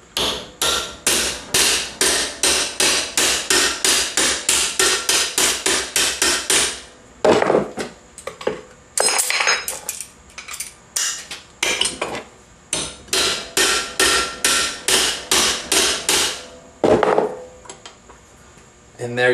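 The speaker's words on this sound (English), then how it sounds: "get your ball peen hammer." A ball peen hammer pounds a metal piece held in vice grips flat, a long run of loud, rapid, evenly spaced ringing blows in bursts separated by short pauses, with no voices.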